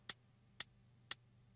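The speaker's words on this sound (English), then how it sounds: "Our last drum element would be the hi-hats" Electronic hi-hat hits play alone in a steady pulse, four crisp, bright ticks about half a second apart over a faint low hum, fairly quiet and close.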